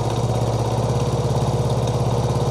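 A Chinese 70cc motorcycle engine runs close and steady, its fast, even firing pulses rising slightly as the throttle opens. No voices are heard.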